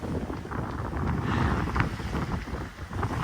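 A Hustler 30 sailboat runs under full sail in a stiff breeze, with steady wind roar buffeting the microphone and water rushing along the hull, loud and continuous.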